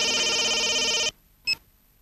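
A telephone rings loudly with a bright electronic tone for about a second, stops, then gives one short chirp after a pause.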